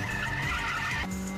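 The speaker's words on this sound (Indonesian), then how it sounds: "Hingga waktu yang ditunggu Takumi untuk menyalip Kyoichi pun tiba, yang hal itu diikuti oleh Ryosuke tepat di tikungan" Race cars overtaking at a mountain-road corner in the film Initial D, engines screaming at high revs with tire squeal, loud and close, then the pitch drops abruptly as one car passes.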